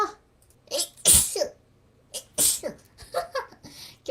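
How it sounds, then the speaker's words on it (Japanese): Several human sneezes in quick succession, sharp loud bursts with breathy intakes between them, alone without talk. "Yabai, too much sneezing."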